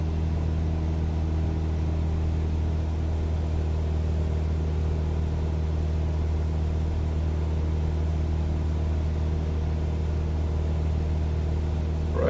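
Cessna 172 piston engine droning steadily in flight after the throttle is eased back, a constant loud low hum with cabin rumble and no change in pitch.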